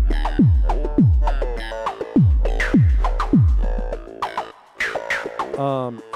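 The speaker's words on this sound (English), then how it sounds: "if I bring the bass drum in, you can hear it's turning down when the bass drum hits" A modular synth patch pumps with a deep, booming bass drum that thuds on a steady beat while the surrounding tones and melodic notes duck in volume on every hit, then swell back between kicks.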